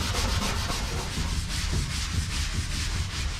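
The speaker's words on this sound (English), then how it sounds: "so I'm going to use some Scotch-Brite" Steady abrasive scrubbing of glossy epoxy on a small boat's center case with a Scotch-Brite pad, a continuous close rasping rub with a quick back-and-forth rhythm throughout.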